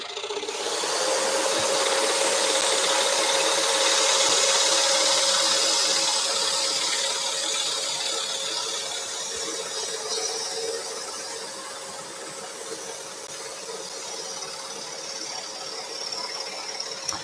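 A scroll saw cuts a wooden 3D castle piece in a workshop, a steady buzzing rasp with a faint motor whine, close and continuous throughout with no talking.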